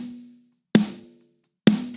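An acoustic snare drum run through a Pawn Shop compressor on its Snare Smash preset, giving punchy, sharp hits with a short ringing tail, two full strikes following a fading earlier one, with nothing else heard.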